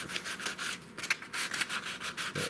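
Steady back-and-forth rasping of sandpaper on a wooden mantel, rhythmic strokes, close and fairly quiet.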